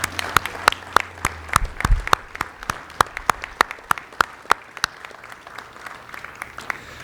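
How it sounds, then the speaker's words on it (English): An outdoor audience at a courthouse beam-raising ceremony applauds the contractors, a modest gathering whose scattered, distinct individual claps thin out over several seconds. "Let's give them a big round of applause."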